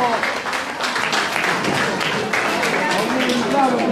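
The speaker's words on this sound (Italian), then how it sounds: "Facciamo un bel applauso a questi bambini che sono la voce del mondo!" An audience applauds a group of children, with dense continuous clapping throughout and voices and shouts mixed in over it.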